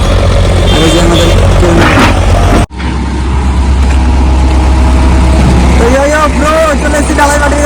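The diesel engine of a concrete boom pump truck idles at a building site with a steady, close, low rumble. People talk over it throughout.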